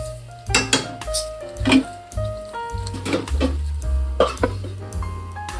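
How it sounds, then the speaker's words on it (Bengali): A metal lid is set onto a cooking pot of poppy-seed (posto) dish in a home kitchen, giving a few clinks and knocks of cookware over a steady musical background. "এখানে একটু ঢাকা দিয়ে দিই।"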